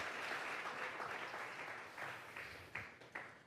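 A church congregation at a Sunday service bursts into applause as an offering, a dense, fairly distant patter of many hands with a few sharper claps standing out near the end.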